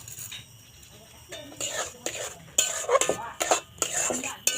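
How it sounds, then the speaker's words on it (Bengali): Semolina, milk and sugar stirred in a kadai for sitabhog sweets, a spoon scraping and clinking against the pan in uneven strokes that grow louder and more frequent toward the end, with no voice. "খুব ভালো করে নাড়িয়ে চাড়িয়ে কিন্তু একটা যখন দইয়ের মতো তৈরি হবে বা কড়াই থেকে ছাড়বে তখন নামিয়ে নেব।"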